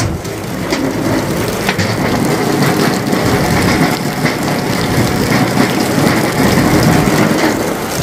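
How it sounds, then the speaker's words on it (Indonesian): Rain falls steadily outdoors, a loud, even patter on surfaces that continues throughout, with a faint low hum underneath and no voices. "Jadi ini pas kebetulan hujan, langsung kita uji coba."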